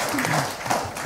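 Audience applause welcoming a law firm chairman as a guest on an Indonesian talk show, a short burst of clapping with music or voices underneath.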